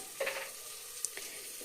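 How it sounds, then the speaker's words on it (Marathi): Oil sizzles softly and steadily in a pan as spices are tempered, with a couple of faint clinks of a utensil stirring. "आत्ता फोडणी टाकली आहे"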